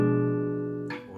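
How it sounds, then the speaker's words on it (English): A diminished chord rings on guitar and sustains steadily before a soft noise cuts in near the end. "diminished chords are brilliant. They provide tension"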